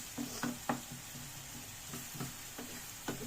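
A soft, steady sizzle of chopped onions frying in a pan, with a few light clicks of a utensil against the pan.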